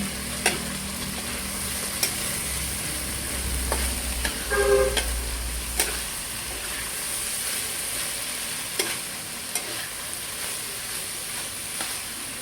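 Food being stirred in a sizzling pan after salt is added, a continuous hiss with periodic scraping clicks of a utensil, plus a brief car horn in the distance.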